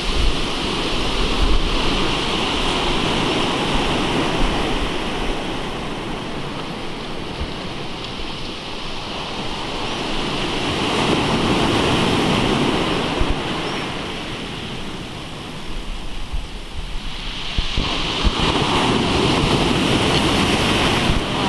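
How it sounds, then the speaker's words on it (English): Ocean surf rolls and crashes onto a beach in a steady, continuous wash, with a broad roar that rises and falls around the shore where fishing for rays takes place. "You'll never get a fish through those waves."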